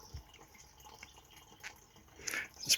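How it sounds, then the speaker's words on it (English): A small garden fountain at a French barn trickles and drips faintly, with scattered quiet splashes and a couple of brighter drops near the end, no talk over it. "It's quite a nice little fountain"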